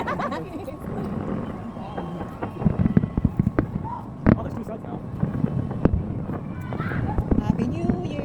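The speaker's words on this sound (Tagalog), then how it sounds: "There's a lot of fireworks here." New Year's fireworks pop and crackle in repeated sharp bursts at varying distance, with a dense bed of wind and crowd noise and people talking and cheering throughout.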